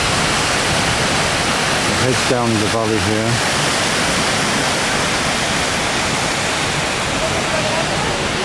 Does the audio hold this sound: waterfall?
yes